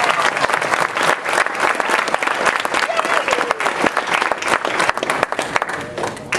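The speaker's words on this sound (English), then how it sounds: "I'm sure the audience is going to thank you with a great round of" An audience at a public speaking event claps loudly and steadily after a speech. The dense applause holds for the whole stretch.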